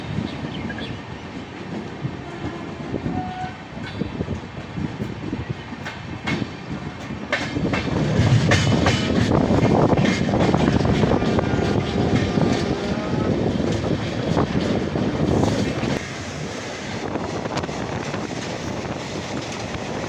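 The Jogbani–Siliguri Town Express runs nonstop toward Aluabari Road Junction, a continuous heavy rumble of carriages with rhythmic wheel clatter growing louder midway, then easing slightly.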